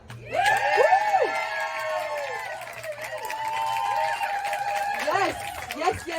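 A spoken word festival audience cheers and whoops at an outdoor stage, many high voices shouting and squealing together in long rising and falling calls, loud and close, with clapping and chatter mixed beneath.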